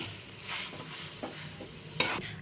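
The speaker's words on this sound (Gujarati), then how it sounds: "આ રીતે હું બધું જ મિક્સ કરી દઈશ" A spoon stirring a spiced sandwich filling in a hot pan, scraping and sizzling gently with a few sharper clinks against the metal, close and alone.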